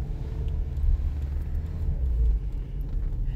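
During a beginner driving lesson, a car pulls away slowly from a stop with a low, steady engine rumble heard from inside the cabin, and no talk.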